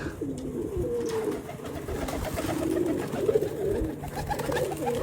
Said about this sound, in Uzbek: qizimni kaptarga don berishini qarani.